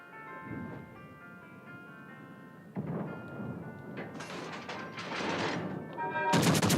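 Warship guns firing in World of Warships: Legends, heard as deep, rumbling booms over a low hum, with heavier blasts building toward a loud final salvo.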